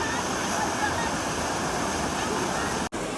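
A crowded waterfall pours strongly, a loud, even, continuous rush of falling water heard alone, cut off by a brief dropout near the end.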